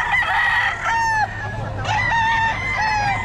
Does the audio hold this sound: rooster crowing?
yes